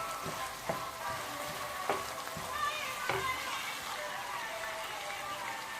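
Condiments sizzling in a lightly oiled pan, a steady crackling fry with a few sharper pops, close up and continuous before shrimp and beef ribs are added.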